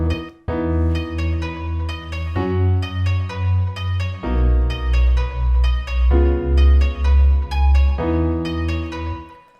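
Electronic dance track built around a wide UK garage-style bass that pulses in heavy, rounded throbs beneath bright, stabbing synth chords, loud and upfront with no voices.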